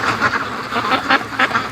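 Muscovy ducks near a swamp give a rapid run of close, loud, nasal quacks in uneven bursts.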